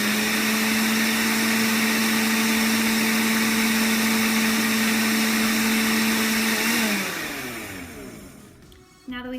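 An electric mixer whirs loudly and steadily while blending a sugar scrub with coconut oil, its tone holding even for several seconds before the motor winds down and slows near the end.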